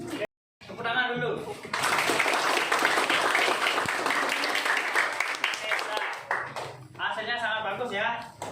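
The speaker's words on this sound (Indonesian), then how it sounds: "Tepuk tangan dulu." Schoolchildren in an Indonesian classroom clap their hands together in a loud burst of applause lasting several seconds, with a teacher's voice speaking just before and after.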